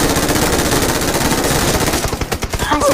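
Automatic weapon fire in the mobile shooter Game for Peace sprays at a vehicle in one long, loud, unbroken burst of rapid shots that only thins out near the end.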